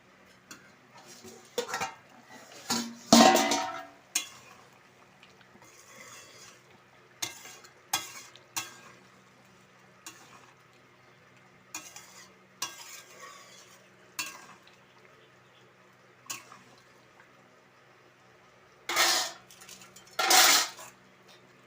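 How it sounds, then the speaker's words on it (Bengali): Chicken curry masala stirred in a lidded pot, a series of scraping, clinking spoon strokes against the metal in short bursts with quiet pauses and faint sizzling beneath, alone without talk. "একবার ঢাকাটা খুলে ভালো করে নেড়ে দেবো"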